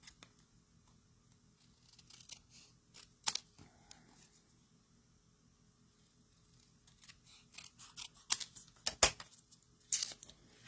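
A paper card border being trimmed with scissors in a quiet room, heard as sparse, faint snips and crisp paper rustles, with a few sharper cuts clustered toward the end.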